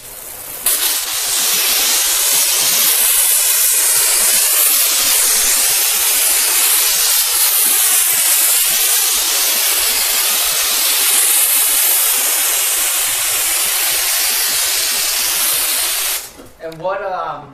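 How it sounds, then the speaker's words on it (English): A foaming detail keg sprayer hisses steadily as it pre-soaks a car panel with Loki, a loud, constant spray that runs almost unbroken before cutting off near the end with a few sputters. "I'm going to just pre-soak this side with Loki."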